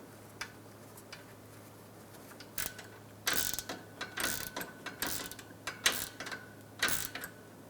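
A hand ratchet clicks in short, quick bursts as it tightens a bolt on the AC condenser of a 2007–2012 Nissan Altima, fairly close and clear, with several separate strokes and pauses between them.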